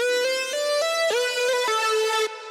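A recreation of a synth fill, built in the Serum synthesizer, plays a quick, loud stepping line of buzzy, bright notes with slight pitch swoops at their starts, ending in a held tone that cuts off.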